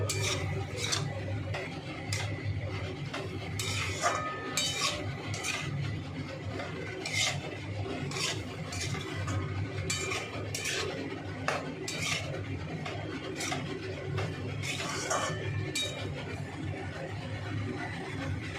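Lightly fried prawns being stirred into a leafy greens and radish dish in a pan: continuous close metal scraping and clinking of a spatula against the pan with a soft sizzle underneath, no talking.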